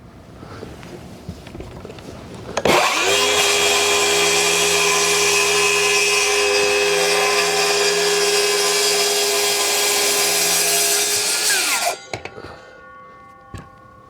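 A power saw cuts sheet goods into blanks on a cutting grid, one loud continuous whining run of about nine seconds, starting abruptly and winding down, with a few knocks from handling the boards before and after.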